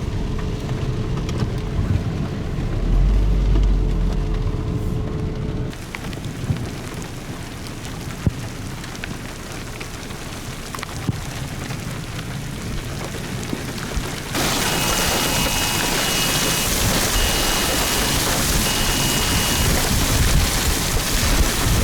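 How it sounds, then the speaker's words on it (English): An intense supercell thunderstorm on the Great Plains during a tornado warning brings a constant heavy roar of rain. The wash of sound shifts in character partway through and grows louder toward the end. "A little more intense storm than I expected."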